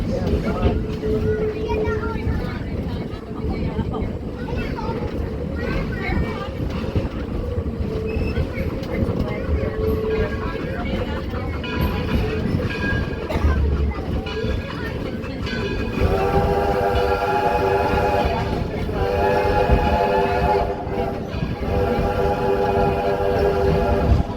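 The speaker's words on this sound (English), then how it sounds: "let you enjoy the sights, sounds, and even the smells of locomotive travel back in the late 1800s and early 1900s." Historic locomotive train passing at Greenfield Village, a steady rumble and clatter of running gear heard at moderate distance under a person talking, with a sustained whistle-like tone in the later part.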